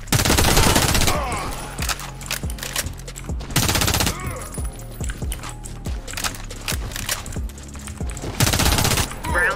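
SAR 109T rifle fire in the shooter Warface, loud close bursts of automatic gunfire broken by short pauses, with a voice speaking excitedly in between.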